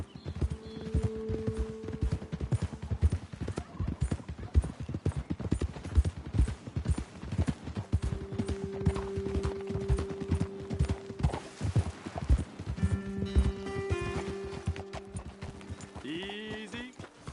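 Horse hooves in the video game Red Dead Redemption 2 clip-clop steadily at a walking pace, close and continuous, with a brief whinny near the end.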